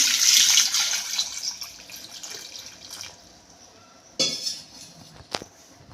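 Water pours from a tap into a metal pot holding raw mangoes, with a bright rushing splash, fading to a trickle, followed by a couple of clanking pot knocks.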